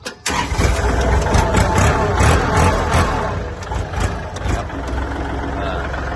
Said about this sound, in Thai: เดี๋ยวผมสีลองสตาร์ทเครื่องให้เบิ้งนะครับเบิ้งไอเบิ้งน้ำนะครับ